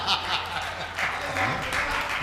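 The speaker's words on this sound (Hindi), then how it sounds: "आप लोगों ने जो मेरे स्वागत में इतनी घनघोर तालियां बजाई" Audience applause at a Hindi kavi sammelan poetry recital, a steady wash of clapping from a crowd with a voice speaking over it throughout.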